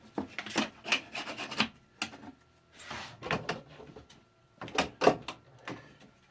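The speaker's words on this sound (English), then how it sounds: "And I start by taking my plexi scraper, scraping the wax off the edges." A plexi scraper rasps along the edges of a Nordic ski, pulling off cooled glide wax in a series of short, close, scratchy strokes grouped in bursts with brief pauses.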